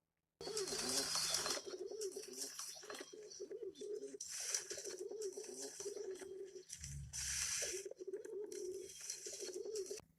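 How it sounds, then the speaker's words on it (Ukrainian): Soft, throaty pigeon cooing repeats in rolling phrases over a steady hiss of background noise, with a brief low thump partway through. "Голуб воркоче"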